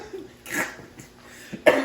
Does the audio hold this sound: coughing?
yes